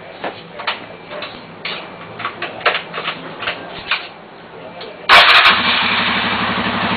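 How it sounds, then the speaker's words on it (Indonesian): A motorcycle fitted with a simple anti-theft alarm starts abruptly after a stretch of clicking and shuffling handling noises, then runs on in a loud steady idle close by. "ini posisi motor sudah nyala"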